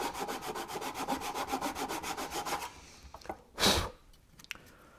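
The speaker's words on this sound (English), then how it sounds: "Now I'll just take the saw in their miter box and cut in all the fret slots." A hand saw in a miter box cuts fret slots into a wooden electric ukulele fretboard with fast, even back-and-forth rasping strokes, close and steady, then it stops, followed by a single louder scrape and light handling noises.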